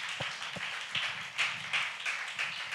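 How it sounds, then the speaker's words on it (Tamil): A church congregation claps for some of its members, with scattered, uneven hand claps and a few sharper early slaps that swell into soft, moderately near applause before tapering. "இவங்களுக்காக ஒரு நல்ல கைதட்டு கொடுங்க பார்க்கலாம்"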